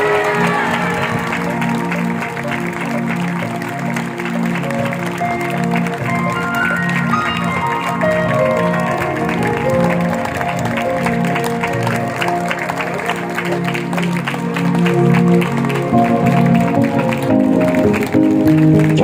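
Church congregation applauding testimonies, a dense, sustained clapping crowd at full volume for the whole stretch, with music or voices faintly mixed beneath.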